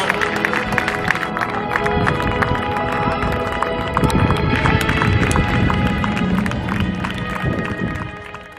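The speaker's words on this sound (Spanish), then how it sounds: "Ahí están los aplausos para las bateleras, también para Orio." Spectators applaud and cheer for the rowing crews, including the bateleras and Orio, as a trainera regatta finishes; a steady, dense wash of clapping and crowd noise runs throughout at moderate distance.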